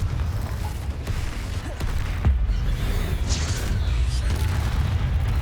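A Confringo blasting spell in Hogwarts Legacy lands as a deep, rumbling boom amid low, continuous game-battle rumble, with a sharper blast burst midway.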